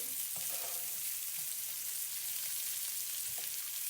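Vegetables fry in olive oil in a single pot, a steady, even sizzle with a few soft stirring bumps and no talking.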